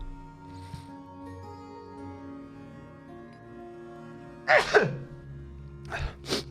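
A person sneezes twice in quick succession after a quiet stretch. Both bursts are loud and close, and the second is shorter.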